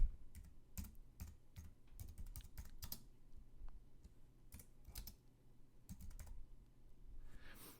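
Typing on a computer keyboard in quick uneven bursts of crisp key clicks with short pauses between, close but fairly quiet, and no one speaks.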